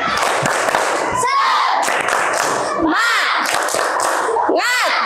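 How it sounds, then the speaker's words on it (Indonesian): A class of fifth-grade children in an Indonesian classroom shout and clap together in a spirit cheer. Bursts of claps land under loud, chanted young voices, with pauses between phrases. "Ayo semuanya, tepuk semangat."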